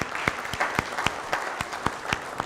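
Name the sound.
audience applause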